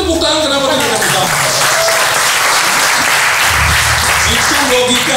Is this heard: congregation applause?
yes